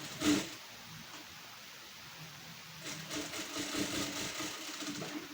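A sewing machine runs a seam on a katori blouse, its motor whirring quietly and steadily before rising into a fuller, busier stitching hum.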